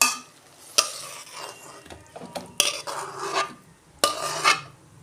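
Red spinach chochchori being stirred and scraped in a pan with a spoon, then tipped out, giving several sharp metallic clanks and scraping bursts with quieter shuffling between them, close and clear with no talk.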